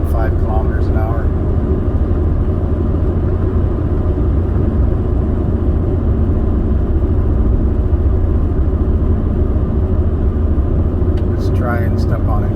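A 2003 Mini with a CVT transmission cruising at 105 km/h, heard from inside as a steady, loud low engine drone and road rumble that barely changes, with someone talking over it.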